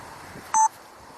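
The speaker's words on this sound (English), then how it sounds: "Did you hear that? Beep, beep, beep, beep." Electronic beeps sound in a quick, clipped burst of tones, sharp and fairly loud against a quiet background.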